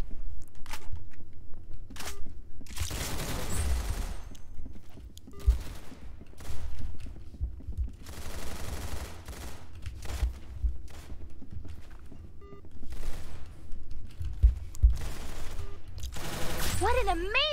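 Rapid game gunfire bursts from Roblox Arsenal, sharp cracks and volleys clustered in repeated salvos with short pauses, loud and close, with occasional footsteps and a brief exclamation near the end.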